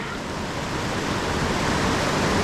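Whitewater of the Youghiogheny River roars through the Cucumber Rapids boulder field at about eight feet, a dense, steady rush with no voices.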